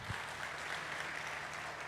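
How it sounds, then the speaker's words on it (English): An audience at an Africa Day event applauds, a steady wash of clapping from a crowd that is fairly distant and soft. "Give him a round of applause, please, one more time."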